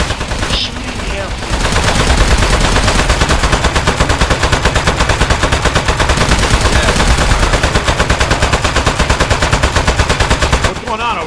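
Rapid automatic gunfire in a video game, a loud, continuous stream of shots that runs nearly unbroken for about nine seconds, with voices speaking over it.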